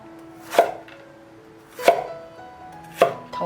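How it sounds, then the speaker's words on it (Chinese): Three sharp knife strokes on a cutting board as bitter melon is cut into long segments, each chop a crisp thud evenly spaced about a second apart, close and clear with no talking. "洗干净了之后，把它切成段"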